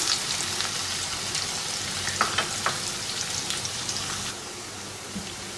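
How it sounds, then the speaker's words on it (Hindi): Onions frying in oil in a pot for Pakistani chicken biryani, a dense continuous sizzle with occasional small pops and stirring clicks, close and steady, without talk. "सबसे पहले हम इसमें अनियन डाल देंगे और इनको हल्का सा गोल्डन करेंगे।"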